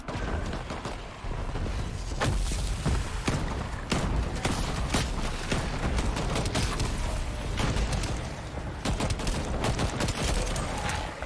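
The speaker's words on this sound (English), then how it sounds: "I like spamming pistols." Rapid, relentless pistol fire in a first-person shooter video game, sharp overlapping gunshots rattling off in dense bursts almost continuously, loud and close with brief gaps between volleys.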